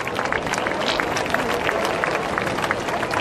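Steady, dense applause from a large outdoor crowd at the Jesolo European Airshow, clapping continuously throughout without pause.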